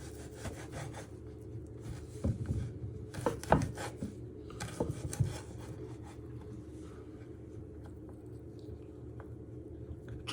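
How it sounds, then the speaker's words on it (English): A knife slicing food on a wooden chopping board while squid and chorizo casserole ingredients are prepared; scattered rasping cuts and soft taps cluster in the middle, with quieter board noise around them. "So you first chop it down the middle. Keep it together. And then you're just slicing it."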